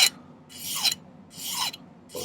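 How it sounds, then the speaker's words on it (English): A hand file rasps across a silver wire ring in three separate bursts of strokes, each lasting about half a second, with short quiet gaps between them. The sound is close and bright. "I'm going to be filing"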